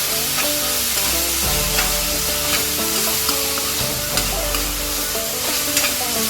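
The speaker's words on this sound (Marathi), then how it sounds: "हिंग आणि हळद सगळं घालून घ्यायचं आणि छान परतून घ्यायचं।" Ivy gourd sautés in a pan over a medium gas flame with asafoetida and turmeric, giving a steady close sizzle broken by repeated stirring scrapes and clinks.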